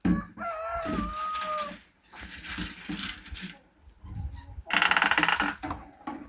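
Chickens, including broody hens, clucking and crowing nearby under a shelter in the rain, with scattered fowl calls and rustling, including a burst of noisy activity near the end.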